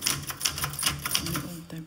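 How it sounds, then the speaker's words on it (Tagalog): An old typewriter clacks in a quick, irregular run of key strikes, close and distinct, with a voice talking under it. "Old typewriter."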